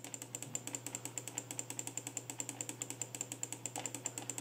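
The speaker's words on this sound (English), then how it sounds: "The right mouse button click." Right button of a Limeide S1 budget mouse clicked repeatedly in an even, rapid rhythm, sharp light close clicks over a faint steady hum.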